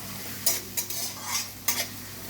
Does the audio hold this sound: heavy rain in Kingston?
no